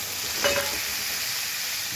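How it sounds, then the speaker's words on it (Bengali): Papaya frying lightly in hot oil in a pan, a steady close sizzle with a brief louder burst of crackling near the start, no voices. "এবার পেঁপেটাকে হালকা ভেজে নেব"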